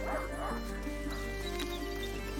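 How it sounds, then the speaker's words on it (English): Lion, a hunting dog in the game A Plague Tale: Innocence, barks and yips a few times over a steady low hum of game ambience, with whimpering tones mixed in. "Un chien de chasse."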